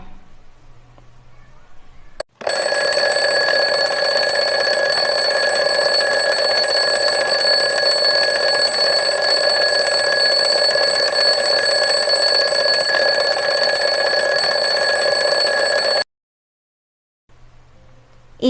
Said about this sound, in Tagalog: Pakinggan ninyo ang tunog ng alarm clock.